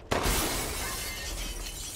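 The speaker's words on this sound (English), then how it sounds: "Shoot the bell hanging outside through the glass." A window pane shatters in the Resident Evil Village game as a hanging bell outside is shot through the glass: a sharp, loud crash followed by a dense spray of tinkling shards that rings on for nearly two seconds.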